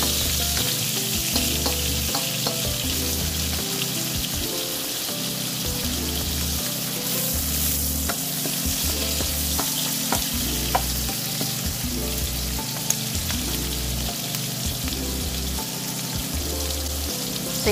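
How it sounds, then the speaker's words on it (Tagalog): Potatoes sautéing in a pan for a beef rib stew, a loud, continuous close sizzle and crackle with occasional stirring scrapes, no voices. "So, idagdag na natin yung ating potatoes at igisa lang natin siya ng bahagya until medyo mag-brown-brown na yung potatoes natin."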